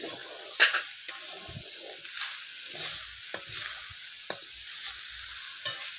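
A spatula stirs grated coconut and sugar in a pan, producing soft continuous scraping and a light hiss, broken by a few sharp taps of metal against the pan.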